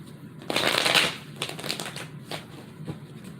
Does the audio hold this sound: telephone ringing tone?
no